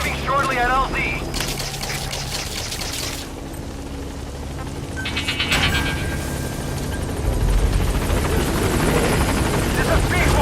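B-Quad helicopter arriving at a landing zone in Metal Gear Solid V: The Phantom Pain, its rotor thudding loud and continuous and growing nearer, with radio voices and other game effects over it.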